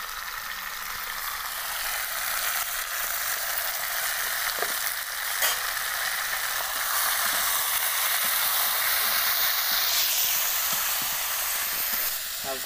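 Chicken fries with browned onions in a hot pan, giving a loud, steady sizzling hiss close up with occasional scrapes and taps of a spoon stirring, and no voices over it.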